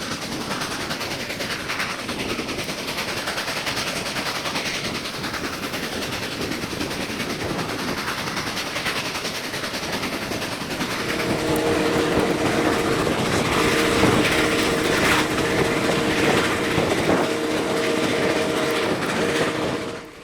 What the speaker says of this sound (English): Soon our train rounded the first major curve in the route